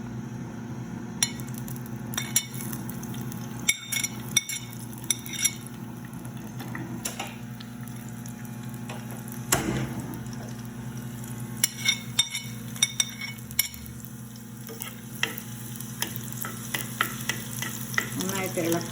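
Onion sizzling in a pan for dal while being stirred, with repeated scraping clicks of the spoon over a steady frying hiss, close and moderately loud with no talk.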